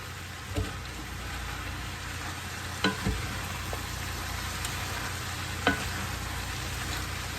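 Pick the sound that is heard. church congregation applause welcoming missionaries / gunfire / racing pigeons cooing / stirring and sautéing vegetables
stirring and sautéing vegetables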